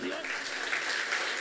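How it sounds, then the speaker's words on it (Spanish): Congregation applause during a church sermon, a brief burst of dense clapping with a voice briefly over the start. "¿Alguien le da un fuerte aplauso a Dios?"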